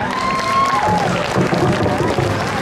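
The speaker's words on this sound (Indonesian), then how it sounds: "Ayo tepuk tangan semuanya, tepuk tangan" Audience at a school Isra Mi'raj event applauding, steady clapping and crowd noise throughout, with a voice and tonal sounds over it.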